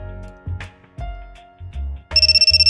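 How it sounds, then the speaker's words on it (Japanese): A telephone ringtone sounds in a game scene, starting with a few low thumps and tones before a bright, rapidly pulsing ring cuts in clearly near the end. "マキちゃん、電話"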